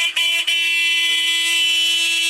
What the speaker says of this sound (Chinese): 有喇叭。